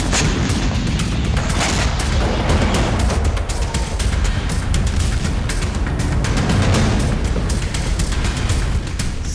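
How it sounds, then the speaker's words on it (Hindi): Heavy blasts and rapid gunfire crackle together in a dense, relentless barrage, loud and chaotic throughout. "खंडहर बना देने वाले धमाके,"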